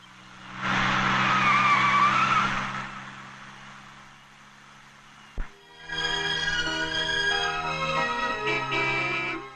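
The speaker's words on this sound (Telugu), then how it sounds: "మళ్ళీ ఇంకో కారా?" In a Telugu comedy scene, a car's tires screech in a loud, wavering skid lasting a couple of seconds, followed by a sharp thump and then a busy stretch of engine noise mixed with music.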